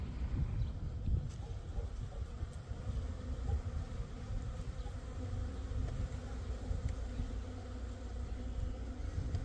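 A honeybee swarm in flight, a steady dense buzzing hum that carries on throughout without a break, loud and close, with no talk.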